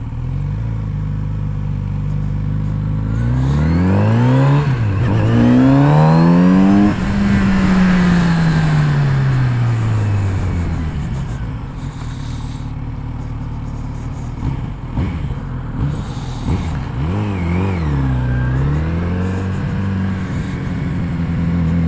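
A Kawasaki Z900RS motorcycle engine revs and accelerates up through the gears on a road ride, loud and close, with rising and falling pitch sweeps as it shifts and slows, then pulls again, with steady wind noise throughout.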